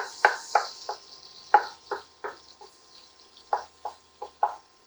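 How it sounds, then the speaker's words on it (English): About nine sliced garlic cloves sizzle in a pan for a marinara sauce, with a dozen crisp, evenly spaced scrapes of a stirring utensil over a soft frying hiss. "So that's about 9 garlic cloves sliced. Somewhere here. Give those a stir."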